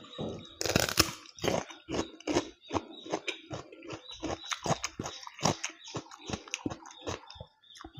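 Crisp, crunchy chewing of raw jicama, close to the mouth, with a steady run of sharp bites and crunches that fade into softer chewing, and no talk.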